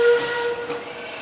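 The steam whistle of the Mississippi locomotive on the Western River Railroad gives a steady, loud, hissing tone close by, with no talking over it.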